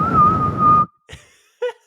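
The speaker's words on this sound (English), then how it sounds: "yeah, whistle louder." A steady, loud whistled tone held for under a second, followed by a couple of brief, quieter voice sounds after a pause.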